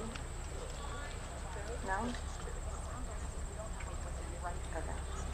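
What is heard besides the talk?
horse trotting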